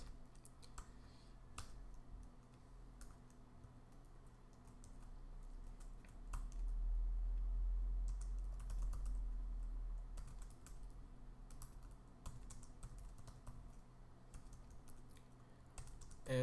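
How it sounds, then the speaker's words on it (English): Fingers type on a computer keyboard in steady, quick bursts of close key clicks over a low background hum, with no voices. "So let me just type in some things."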